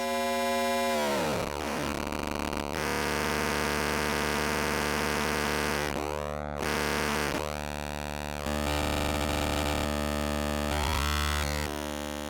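Buzzy, metallic FM tones from an Intellijel Shapeshifter modular synthesizer with dense harmonics, swooping and warping in bursts as the timbre shifts and clashes.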